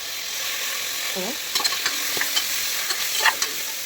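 Tomatoes, coriander and mint frying for chicken biryani, a low constant sizzle broken by light scraping and tapping of a ladle against the pan, with a brief faint voice near the start.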